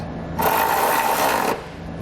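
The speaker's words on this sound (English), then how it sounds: "we'll tighten up the bolts that are going into the inside of the rocker panel using that same 13mm socket" A ratchet with a 13mm socket tightens a running board bracket bolt into the rocker panel of a 2016 Chevrolet, one quick rasping burst of clicks lasting about a second, close up.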